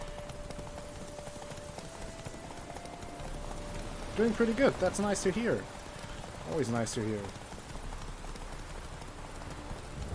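Hooves of Geralt's horse Roach galloping during a race in The Witcher 3, a steady faint patter under someone talking, with two short bursts of other voices in the middle.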